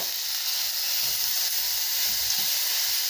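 Ginger garlic paste frying with onion and tomato in a pan for chicken varuval, a continuous close sizzle and hiss throughout with no talking.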